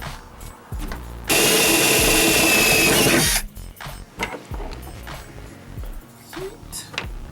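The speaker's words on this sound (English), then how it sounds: "then drill through the bed" A power drill whines loudly for about two seconds through a metal truck bed while installing a Viair 485c air compressor, then stops, followed by quieter clanks and handling noises.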